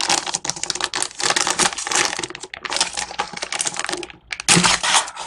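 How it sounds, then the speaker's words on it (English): Scissors snipping and crinkling open the plastic package of Cricut Infusible Ink sheets, a dense close run of crackling, rustling and cutting noises with a brief pause near the end. "let's just get this baby open. I'm just going to snip off the top."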